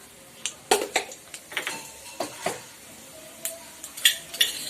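Mustard seeds go into hot oil for tempering a pudina chutney: scattered sharp pops and spattering bursts come over a faint sizzle, mixed with light clinks of a spoon against the pan.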